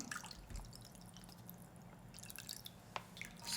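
Water drips and trickles off soaked shiitake mushrooms squeezed by hand in a kitchen, faint scattered drops with a slightly louder splash near the end over a low background hiss.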